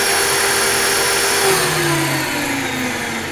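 550X RC helicopter rotor spinning down after throttle hold, a loud, continuous whirring whine whose pitch slowly falls as the rotor loses speed, with no talk.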